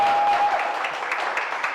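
An audience clapping as a guest is welcomed at a public administration event, a dense, loud burst of applause that holds steady and fades slightly toward the end.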